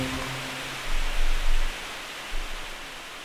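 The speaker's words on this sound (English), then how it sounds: "White noise, static, the sound of every sound all at once at the end there." Steady hiss of white noise static filling the whole range, with a few low rumbling swells partway through.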